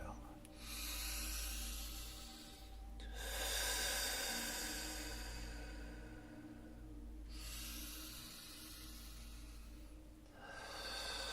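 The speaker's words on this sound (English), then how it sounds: "in through the nose, out of the mouth. It sounds like you're blowing out a candle on the exhale." Slow de-stressing breaths, each drawn in through the nose and blown out through the mouth like blowing out a candle, repeating in long, steady, close-up hissing cycles with no talking.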